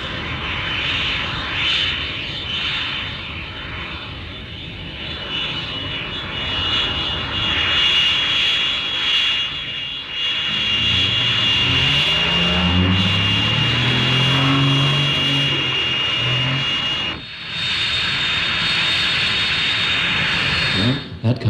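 A North American F-86D Sabre jet fighter gives a loud continuous engine roar with a high whine, swelling and shifting in pitch as it passes, then dropping briefly before resuming, with no talk over it.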